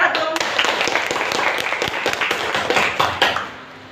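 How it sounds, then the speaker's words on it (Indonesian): Students in a classroom clap for a classmate, a dense burst of hand claps lasting several seconds before fading out near the end, with some voices mixed in. "tepuk tangan buat Agung."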